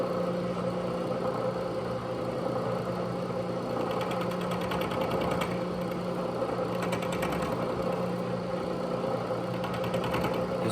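A Logan 6560 metal lathe runs steadily while removing a leftover nub from a parted workpiece, giving a constant mechanical hum with a faint rhythmic chatter throughout and no talking.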